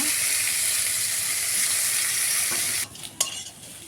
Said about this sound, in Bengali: তো আলুটা এবার ভেজে নিচ্ছি।